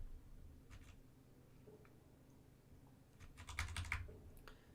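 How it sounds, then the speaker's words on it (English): Computer keyboard keys tapped while driving in American Truck Simulator, scattered quiet clicks that bunch into a quicker, louder burst of typing near the end, close and with no talking. "I'm using my keyboard and my mouse to drive."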